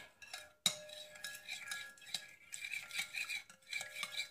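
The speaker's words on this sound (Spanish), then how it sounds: "Y aquí lo vamos a batir muy bien." A utensil beats a cold porcelain craft mixture with vinegar in a bowl, giving quiet, fairly continuous clinking and scraping strokes with a brief pause near the start.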